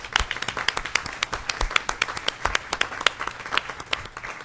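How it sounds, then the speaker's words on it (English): Scattered applause at a board of directors meeting: a modest round of separate, sharp hand claps with uneven rhythm, fairly close and moderately loud, with no talking over it. "we are going to have to give you another round of applause"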